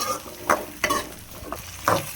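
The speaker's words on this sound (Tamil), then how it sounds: "எண்ணெயில் கொஞ்சம் வேகட்டும்." Onions sizzle in hot oil for a kuzhambu curry while a utensil scrapes and stirs the pan in a few distinct strokes.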